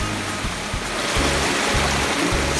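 A natural creek, İsrafil Deresi in Denizli, Turkey, flows with a steady broadband rush of water. Soft, regular low thumps sit beneath the flow, and no one speaks.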